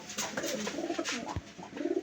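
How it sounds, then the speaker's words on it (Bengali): Rajshahi Giribaj pigeons kept at a home coop, several birds cooing softly at close range in low murmuring phrases, with light rustling and a faint thump partway through. "এবার দেখবো আমরা পাগলা বাজির কবুতর এগুলো"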